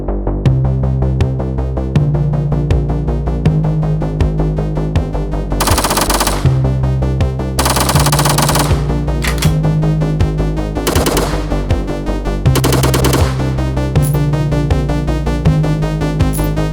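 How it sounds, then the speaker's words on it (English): Rapid machine gun fire rattles out in bursts in the video game Operation: Rogue Dungeon, punctuated by sharp noisy blasts over a looping chiptune-style backing track, loud and close. "Just fire off our guns from this gun."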